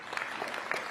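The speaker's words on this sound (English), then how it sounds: "a big round of applause" A conference audience at a Conservative Party conference in Manchester claps, a short, fairly soft burst of applause with scattered individual claps.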